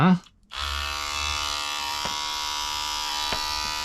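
XL rotary tattoo machine with a 6 mm extra-long stroke running slowly at 4 volts, giving a steady close buzz with faint periodic clicks after a brief spoken word at the start.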